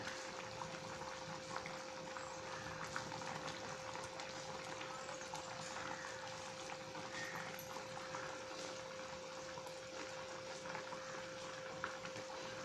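Peanut kuzhambu simmering in a pot, a steady, dense bubbling wash that runs unbroken throughout with a faint constant hum beneath it.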